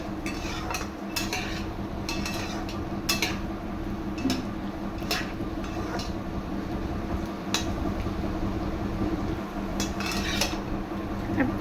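Potatoes fry in a pan on a kitchen stove, a steady broad sizzle running throughout under a low hum, with sharp metallic clicks and scrapes of a utensil against the pan at irregular intervals.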